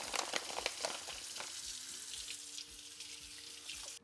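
Axis deer leg medallions rinsed under a running kitchen tap, a steady close hiss of water spattering over meat in a sink with scattered soft clicks and splashes, no voices.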